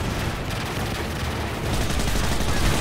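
Dense, continuous gunfire in the Modern Warfare 3 video game, loud automatic bursts blending into a constant roar with no talking over it.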